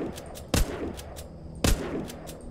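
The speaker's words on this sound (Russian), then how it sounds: "А кто там такой умный стреляет?" Gunfire in The Walking Zombie 2 video game: two sharp, fairly loud shots about a second apart, with fainter rapid clicks and distant pops in between, set against a quiet ambient bed.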